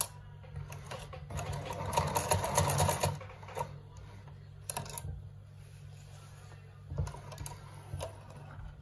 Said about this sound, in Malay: Jahit sampai ujung. Ya, jahit sampai ujung ni, kita matikan jahitan kita dengan patah balik.